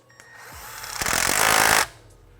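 A power tool drives an 8mm bolt into a 2011-2014 Mustang GT engine during a Project Odin install, giving one loud, rough whirring burst of under a second that builds and cuts off sharply after a couple of faint clicks.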